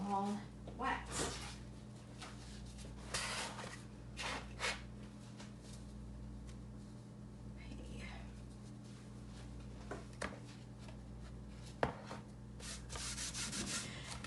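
Wax rubbed by hand onto a bathroom surface, giving soft repeated scrubbing strokes in uneven bursts, close and fairly quiet, with a person talking at times over the low background.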